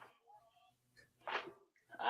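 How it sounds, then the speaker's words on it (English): A sneeze set off by chili seasoning: a short breathy intake followed by a sharp sneeze burst, then the start of another, close and fairly quiet, with no talking. "There's so much seasoning it got me sneezing."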